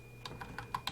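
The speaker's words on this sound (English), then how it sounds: "I'm using the cursor keys to go left" Cursor keys pressed on a computer keyboard while navigating in TempleOS, five crisp separate clicks within a second, close and fairly quiet over a faint steady hum.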